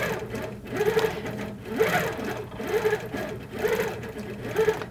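A computerized sewing machine quilts with bobbin thread, a close, steady mechanical whir that rises and falls in rhythmic stitching bursts about once a second.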